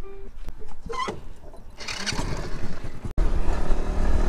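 A Citi 100 motorcycle engine sputters and catches, then revs up into a steady loud drone as the bike moves off, close to the listener.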